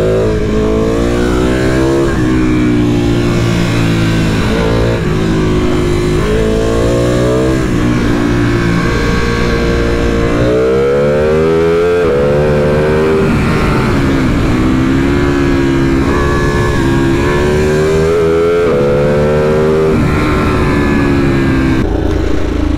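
A Ducati motorcycle ridden fast roars loudly and close throughout, its engine pitch climbing in repeated sweeps as it accelerates and shifts gears. No one speaks.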